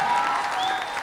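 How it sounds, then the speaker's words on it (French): An audience at a children's singing contest finale in Abobo claps loudly and continuously in a dense wash of applause, with a faint whistle rising through it. "Est-ce qu'on peut applaudir bien fort s'il vous plaît?"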